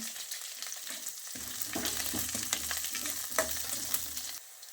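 Crushed garlic fries in a pan with a dense, crackling sizzle and occasional stirring clicks, close and steady for most of the clip before cutting down to a quieter hiss at the end.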